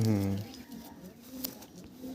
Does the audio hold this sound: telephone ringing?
no